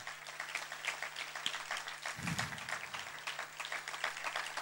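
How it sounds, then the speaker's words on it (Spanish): A church congregation claps during a service, a dense, even patter of many hands that holds steady throughout at a moderate distance. "Dale el aplauso al Señor."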